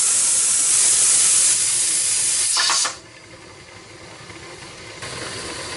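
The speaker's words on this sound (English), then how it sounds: "I'm just going to wait until that is really blowing steam out and let it blow steam for 10 whole minutes before I put the weight on" A pressure canner loaded with calico beans vents steam before its weight goes on, giving a loud, steady, close hiss that drops sharply to a softer rush partway through.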